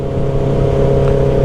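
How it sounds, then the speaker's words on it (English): A Honda CB650R motorcycle with its exhaust baffle fitted, heard from the rider's position while riding. The engine holds a steady, loud hum and drone with a faint rise in pitch, and no voices are heard. "I still really like the sound of the exhaust, baffle or no baffle."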